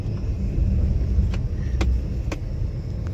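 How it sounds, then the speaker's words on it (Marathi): A car rolls slowly along a rain-wet road dotted with water-filled potholes, a low steady engine rumble with a few faint clicks and rattles from the cabin. "एवढ्या स्पीड मध्ये गाडी न्यायला लागतीये।"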